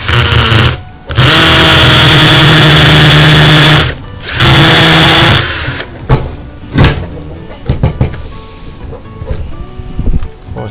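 A power drill fitted with a multi-purpose bit bores into thick concrete in two loud sustained runs of about three seconds and two seconds. Clattering knocks and handling noise follow.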